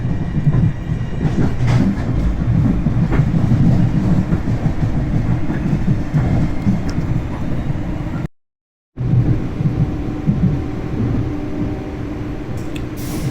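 Amtrak passenger train riding past a train yard after passing under a river near the city, a steady loud rumble with rattling car noise throughout, briefly cut by a short gap of silence.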